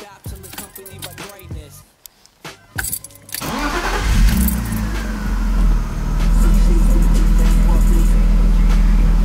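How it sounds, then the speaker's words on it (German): A BMW E36 coupe trunk lid fitted with a rear spoiler is handled with a few sharp clunks and knocks, after which a loud car engine starts and settles into a steady close idle. "Die Kofferraumklappe jetzt, wo der Heckspoiler drauf ist, klingt die nochmal wesentlich massiver."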